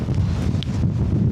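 Gale-force wind buffeting a microphone at a Lake District wild camp on an exposed mountaintop, a loud, continuous low roar and rumble that stays steady and close throughout.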